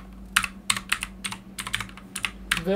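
Keys clatter on a computer keyboard in short bursts as a job title is typed into a resume, a quick uneven run of close, crisp clicks with a steady low hum behind and no talking.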